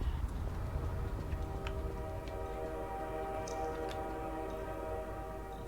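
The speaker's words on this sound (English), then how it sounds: "Was that train horn sound effect something that was added for the haunting?" A train horn in a horror video game map sounds as a long, steady, sustained chord, fairly faint and distant, with low rumbling noise beneath and a few small ticks.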